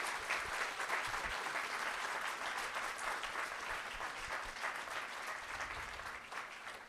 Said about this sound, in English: Can we give Ramona and Beronda a huge round of applause?